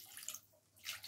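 Water poured into a pan of frying spice paste for a Bengali curd and katla fish curry, a brief soft splashing and sizzling hiss that dips for a moment and swells again, with no talk.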